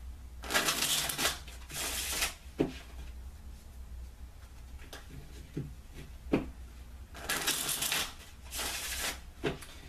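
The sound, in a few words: shuffling playing cards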